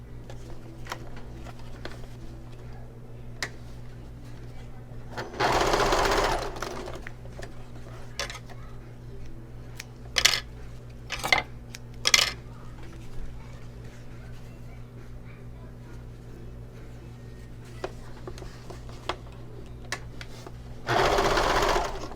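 A sewing machine topstitches a clutch bag seam in three short bursts: a whirring run near the start, quick stuttering stitches in the middle and another run at the end, with quiet fabric handling in between and no talking.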